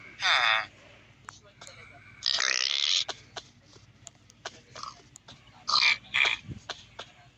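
Pigs on a farm give several short grunting oinks and squeals in bursts, near and moderately loud, over a low steady background hum, with people talking between the calls.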